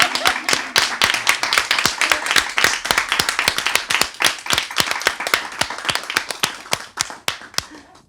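Audience clapping at a feminist interview event on the cyclical revolution, a dense run of sharp hand claps filling the room, steady and fairly loud before tapering off near the end.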